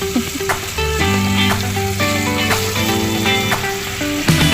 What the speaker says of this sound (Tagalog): Ito ay prito alumahan ko ito.